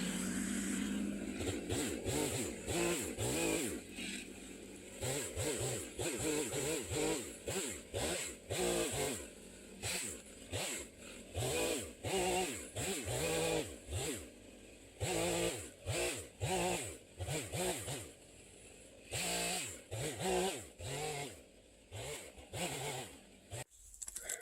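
Chainsaw limbing a tree felled in a wind storm during salvage logging, cutting in repeated bursts that rev up and drop back to idle, close and loud, with no talk.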